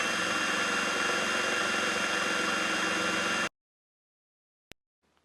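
A Hyper Tough drill/driver spins at its high-speed setting, giving a loud, steady motor whine for about three and a half seconds before cutting off abruptly into silence, followed by a single faint click.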